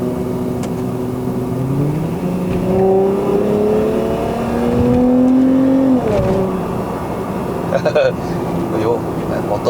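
A remapped 2.5-litre Lexus IS250 XE20 heard from inside the car as the engine note climbs smoothly in pitch, holds, then drops away sharply partway through, staying loud throughout.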